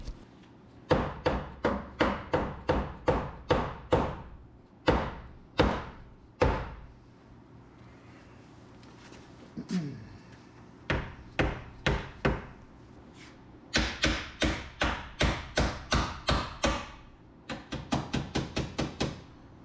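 Repeated sharp bodywork-hammer blows on a sheet metal fender of a Nissan Pathfinder WD21 in quick bursts of several strikes, separated by short pauses, loud and close with a ringing edge.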